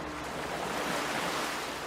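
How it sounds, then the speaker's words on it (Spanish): Waves break on a sandy beach with wind, giving a soft, continuous surf wash at low level, with no voices and no distinct individual breakers. "El silencio solo era interrumpido por el susurro del viento y el romper de las olas en la arena."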